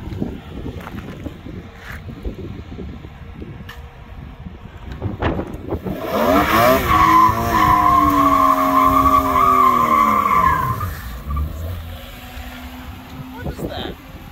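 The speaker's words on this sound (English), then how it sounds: "I'm going to do more burnouts." Car tyres squeal loudly in a burnout at a track event, a rising, wavering screech over a revving engine lasting several seconds, with people talking before and after.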